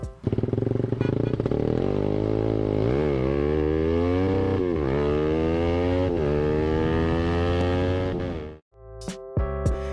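A Suzuki Satria FU motorcycle engine revs hard and whines up and down in rising sweeps, loud and close, before cutting off abruptly near the end, followed by a few brief sharp sounds.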